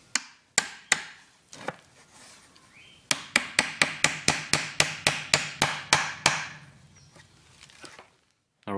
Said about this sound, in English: I have to bang them in with a hammer.